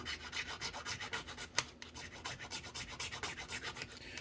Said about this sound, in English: Now I'm going to take my flat file here. I'll just file it a little bit.